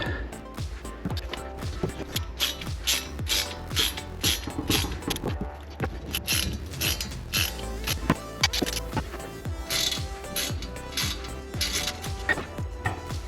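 Screws being driven into a FanHome Back to the Future DeLorean model kit produce repeated ratcheting clicks and small mechanical rattles in steady bursts, close and clear.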